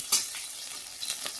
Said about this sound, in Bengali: আরেকটা পাশ ভাজা করছি